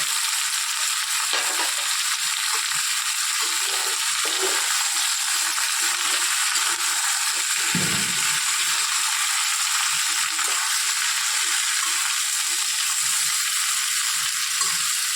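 Potatoes and capsicum fry in a pan with an even, continuous sizzle, broken now and then by soft stirring knocks.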